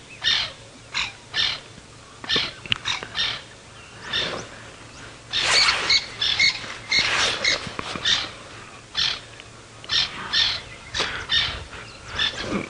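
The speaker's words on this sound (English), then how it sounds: "There's a couple babblers making some noise now." Several babblers calling on an African safari sunrise drive, giving repeated harsh, chattering bursts in uneven clusters, loud and fairly close, over a low background hum.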